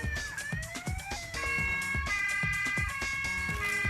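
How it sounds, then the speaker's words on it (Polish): An electronic toy police car siren, from a Bruder Dodge RAM 2500 Power Wagon police model, wailing and switching tones, steady and moderately loud, with a synthetic, toy-like quality over faint rhythmic thumps. "Do wyboru są różne sygnały: policyjny, strażacki, a nawet sygnał karetki."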